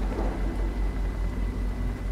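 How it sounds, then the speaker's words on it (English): A helicopter in a tactical four-player shooter video game gives a low, rhythmic rotor thumping. It pulses steadily at a moderate level with no talking. "Oh, helicopter! Oh, helicopter."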